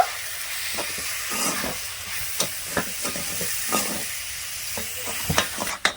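Sugar and rice flour being stirred in a pan for a sweet palm dish, a soft scraping swish with repeated spoon taps and scrapes against the pan over a steady low hiss.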